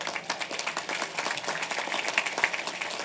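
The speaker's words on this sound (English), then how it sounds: "a big round of applause for them" Audience applause at a Queens College commencement ceremony as the cabinet members stand, a dense, fairly soft patter of many hands clapping steadily for about three seconds.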